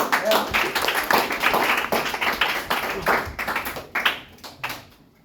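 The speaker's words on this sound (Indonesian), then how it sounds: "Tepuk tangan dulu." Classmates in a teacher-training classroom give a round of scattered hand claps after a group presentation ends, a short, uneven patter that thins out and ends in a few isolated claps, with a voice speaking over it.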